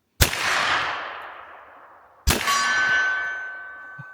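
Two sharp 10mm shots from a Smith & Wesson FPC carbine with a 16-inch barrel, each followed by a long metallic ring from a steel target about 40 yards out; loud and close, with a pause between the two.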